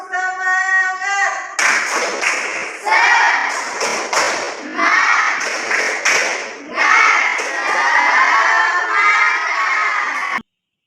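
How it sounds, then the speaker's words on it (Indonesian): Classroom students in Indonesia do a rhythmic spirit clap together, patterned bursts of group clapping with short shouted chants between them, loud and close, ending abruptly. "Oke, tepuk semangat."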